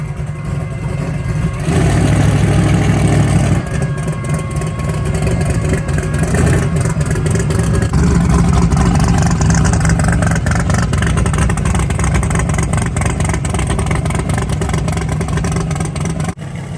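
A Chevrolet S10 pickup truck's engine idles and revs as it is driven up into a trailer, a steady mid-range engine drone with throttle swells, close by and without talk.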